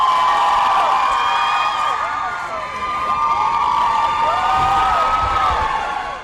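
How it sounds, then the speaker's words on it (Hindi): A large crowd at a Hillary Clinton election night event cheers and shouts in a continuous, lively roar, with whoops rising above the noise and scattered clapping mixed in. "बाहर हिलरी के हामियों का हुजूम था, जिन्होंने तालियों की गूंज में अपनी मनपसंद उम्मीदवार का इस्तकबाल किया।"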